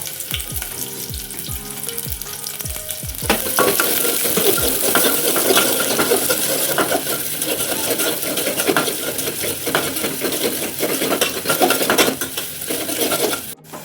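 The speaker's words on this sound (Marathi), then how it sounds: "त्याच्यामध्ये थोडासा कांदा फ्राय करून घ्यायचा." Onion frying in oil for masala chicken biryani. A few sharp metallic clinks come first, then a loud, steady crackling sizzle runs to the end with no talk.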